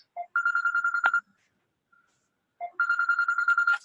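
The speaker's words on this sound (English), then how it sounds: "Sorry, my phone's ringing." A mobile phone ringtone plays in a bright repeating electronic pattern, sounding twice with a short silent gap between the bursts, close and clear during an online employment program webinar.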